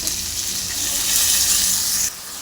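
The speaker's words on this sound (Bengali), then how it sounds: "এবার টমেটো আর পেঁয়াজগুলো দিয়ে আবার ভেজে নিব।" Potatoes, tomatoes and onions fry in hot oil in a pan with a steady, loud, hissing sizzle. The sizzle cuts down abruptly near the end, and no one speaks.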